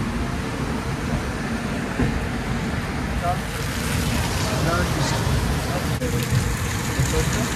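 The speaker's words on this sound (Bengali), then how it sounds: "বিশাল বৃষ্টি হচ্ছে বাইরে" Heavy rain pouring outside a train at Santragachi station, a dense steady roar of rainfall with rumbling and clatter that builds slightly as it goes on, with no clear voices.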